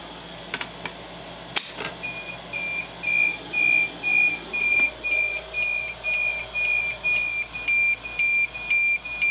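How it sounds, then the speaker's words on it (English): A Notifier AFP-100 fire alarm panel hazard alert tone pulses in a steady, repeating on-off pattern, a high pitched beeping alert that continues evenly after a brief click. "I'll also demonstrate a little hazard alert on here."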